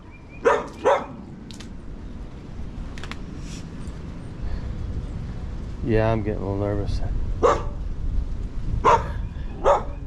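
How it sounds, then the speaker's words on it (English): A dog barks in short bursts behind a fence in an urban setting near a tunnel, moderately close, with someone speaking nervously over a steady background hum. "The dog is at a fence right here, and it can easily come right here and jump in here."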